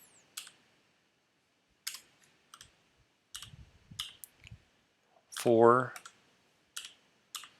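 Typing on a computer keyboard, sparse bursts of clicky keystrokes separated by pauses, close and fairly quiet, with a person talking briefly in the middle.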